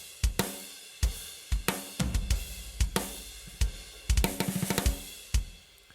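Two-bar drum loop at 90 beats per minute with cymbals, sharp kick and snare hits in a steady groove ending in a quick roll-like fill, played alone without voices.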